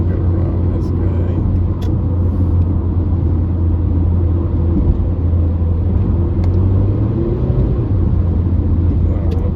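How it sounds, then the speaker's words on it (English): A truck travels fast on the road with a loud, steady engine rumble and road noise heard from the cab, unbroken throughout. "Going a little bit quick for a truck."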